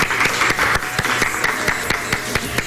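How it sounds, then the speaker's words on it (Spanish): Studio audience applauding a guest at the close of a talk-show interview, loud sustained clapping with individual sharp claps popping out of the dense wash, no talking over it. "un aplauso para nuestra invitada"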